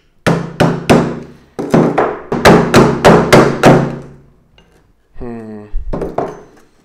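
Sharp metallic hammer blows strike a disassembled iPhone 6 camera in a quick series of loud, close taps and knocks, a pause, a brief rattle, then a few more hits.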